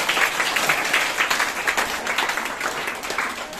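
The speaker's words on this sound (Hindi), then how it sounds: "इनके लिए जोरदार तालियां।" Audience at a school quiz competition applauding the day's champion as she is announced: loud, continuous clapping with a slightly rhythmic pulse, heard on its own without speech.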